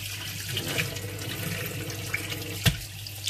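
Tap water runs steadily into a container set up for cleaning sea bream, a continuous close rushing flow with a low hum underneath and one brief knock near the end.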